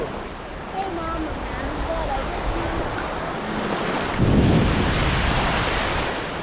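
Waves wash onto the shore at Treasure Island beach near Tampa in a steady broadband roar, with wind noise and a louder surge partway through.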